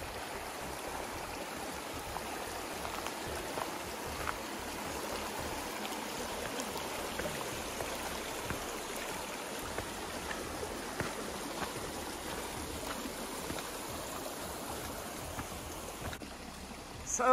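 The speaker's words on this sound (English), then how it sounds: "followed by a little rock hop" A creek flows steadily at a rocky crossing on the Appalachian Trail, making a continuous rushing, burbling wash that stays close and even throughout. No voices are heard.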